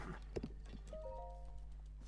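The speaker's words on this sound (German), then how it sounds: "Das Pferd hört sich auch super an, wenn man in der Slow-Motion-Animation ist." A horse galloping in slow motion in the video game The Legend of Zelda: Breath of the Wild, faint muffled hoofbeats with a few thuds and a brief tonal whinny-like sweep, quiet throughout.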